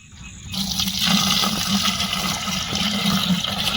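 Water gushing steadily into a fish pond, a continuous rushing splash starting abruptly after a brief quiet moment and holding at a strong, even level.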